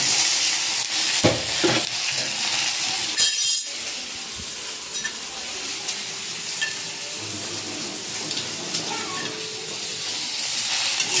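Okra and green chillies hit a hot pan of spice tempering, giving a sustained sizzling hiss with a few clinks of utensils against the pan.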